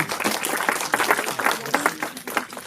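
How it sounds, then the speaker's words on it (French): An audience applauds at a talk on social media strategy for small businesses, a dense steady round of clapping from a crowd, loud and continuous throughout. "Sous une ovation d'applaudissements."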